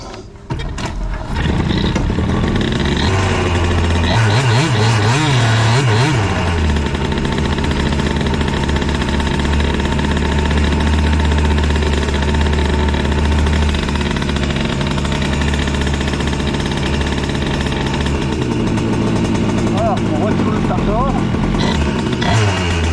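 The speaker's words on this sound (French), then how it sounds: "Vivacité au coup de gaz, hein, quand on est au ralenti, écoutez." MBK Booster scooter fitted with an Airsal 70cc kit runs close by, idling with a sharp burst of throttle early on and then holding a steady loud two-stroke drone, with faint talk over it.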